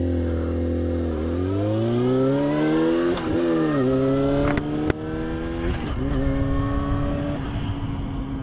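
A Yamaha YZF-R6 sport motorcycle pulls away in first gear, its engine note climbing steadily in pitch as it accelerates, loud and close, with a brief throttle blip midway and no talk.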